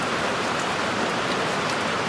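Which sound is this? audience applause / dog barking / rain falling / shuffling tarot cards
rain falling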